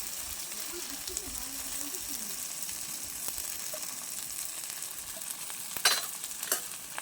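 Chicken frying in a pan as chili paste goes in, a continuous soft sizzle with faint stirring scrapes and a couple of sharper clatters toward the end, close by.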